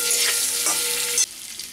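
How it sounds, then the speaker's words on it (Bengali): Potato pieces seasoned with salt and turmeric fry in hot oil, giving a steady, close sizzle with a stirring scrape before the hiss abruptly drops to a faint simmer. "এটাও 1 মিনিট পর্যন্ত ভেজে নেব।"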